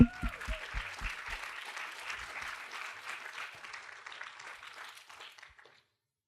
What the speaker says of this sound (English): Let's give them another round of applause up here.